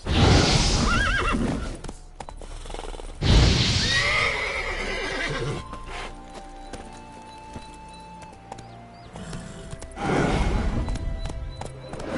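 A horse in the video game The Witcher 3 on PS5 gives several loud, close whinnies spread across the stretch, with hoof clip-clops and ambient game sounds between them.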